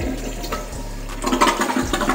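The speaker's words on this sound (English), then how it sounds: "I'll come over and flush it." A residential toilet flushes during a plumbing final inspection, with a loud rushing surge of water that builds and continues, close by and heard without talk.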